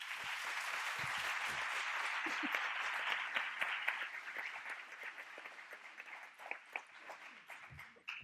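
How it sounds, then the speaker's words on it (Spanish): An audience applauds a woman invited to give her testimony as a terrorism victim, sustained many-handed clapping that holds strong and gradually thins toward the end, with no talking. "Un fuerte aplauso para ella"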